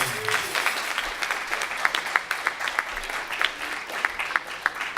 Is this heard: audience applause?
yes